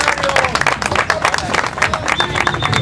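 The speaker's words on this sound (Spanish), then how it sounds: "Un aplauso para Mario Di Constanzo," A crowd at a political rally in Mexico applauds a speaker, close, uneven clapping mixed with crowd noise and scattered voices, fairly loud across the short stretch.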